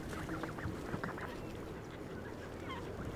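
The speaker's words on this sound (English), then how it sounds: "The mother duck's quacks tell her ducklings what to do." A duck quacks in a short burst of repeated calls, close by, over a constant wash of outdoor background noise.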